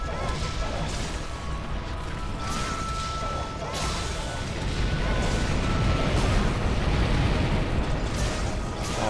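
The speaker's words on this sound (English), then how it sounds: "a large roll of explosions here" A long roll of crashing, booming explosions in a Pokémon video game, loud and continuous for several seconds with heavy impacts layered over one another.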